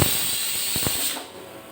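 A pressure cooker vents a loud steam hiss in the kitchen, a single bright burst that fades toward the end.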